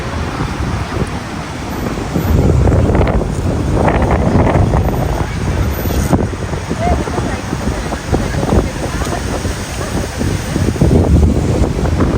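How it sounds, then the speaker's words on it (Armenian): Strong wind buffets the microphone in loud, gusty rumbles over surf and water, with a voice speaking now and then beneath the roar. "Ինչ լավ քամի սկսեց"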